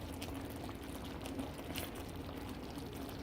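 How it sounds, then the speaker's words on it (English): Sausage gravy simmers in a pan, giving a faint, steady bubbling and popping that runs evenly throughout with no talk over it. "See how it's bubbling?"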